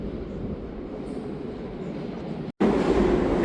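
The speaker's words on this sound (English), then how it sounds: "This is our train." A metro train in Siberia rumbles steadily at close range, its low rolling noise broken by a brief cut before resuming louder and continuous.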